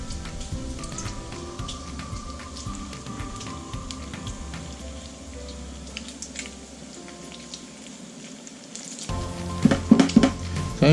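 Fat renders and sizzles in a small pan on an induction cooktop, a steady crackling hiss with fine popping, growing louder and sharper in the last couple of seconds.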